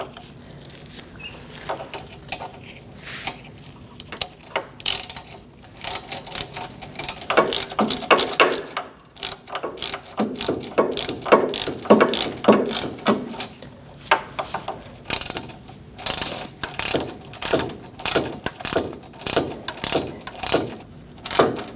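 A ratchet snugging threaded studs on an AC condenser assembly of a 2016-2019 Chevrolet Cruze, with quick rapid clicking bursts and handling taps repeating close by, no talk.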